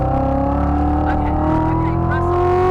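A car accelerating gently on a dealership test drive, with a steady engine drone that slowly rises in pitch, heard from inside the cabin and fairly loud throughout.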